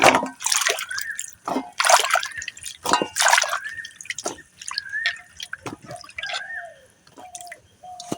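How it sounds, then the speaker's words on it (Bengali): Cut pieces of raw mango are washed in water in a series of splashy pours and sloshes with short quiet gaps between them. The splashing is close and uneven, with faint dripping at the end. "দেখেন এভাবে পানি দিয়ে ধুয়ে নিতে হবে।"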